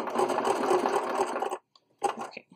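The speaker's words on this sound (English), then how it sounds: "So now I'm gonna backstitch." A sewing machine stitches a cloth pad with a steady close whirr for about one and a half seconds, stops briefly, then starts again in a short backstitch run.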